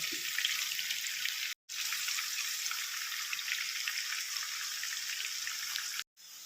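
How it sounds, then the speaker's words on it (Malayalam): Pieces of tuna frying in hot oil for a Kerala-style fish pickle, a steady bright sizzle that runs on without a break, cut off by two short silent gaps, with no voices. "ഇനി അടുത്ത ട്രിപ്പ് കൂടി ഇട്ട് കൊടുക്കുക ഇനി ബാക്കിയുള്ള മീൻ കൂടി എടുത്തിടാം"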